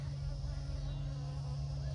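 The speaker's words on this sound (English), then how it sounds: "I have a little bee right here." Honeybees buzzing near a hive that is being moved to a new spot, a steady, unbroken drone with a low hum beneath it, close and even for the whole stretch.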